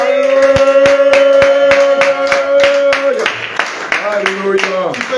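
A congregation at a house-church prayer service claps in a steady rhythm of sharp beats over sung music, then the clapping loosens into scattered applause as the music shifts, loud and close.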